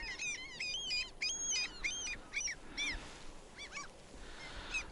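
Seagulls calling while feeding near a fishing boat on the water, a series of sharp, wavering squawks and honk-like cries at moderate distance, repeated irregularly over a quiet background.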